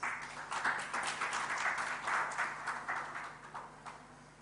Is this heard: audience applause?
yes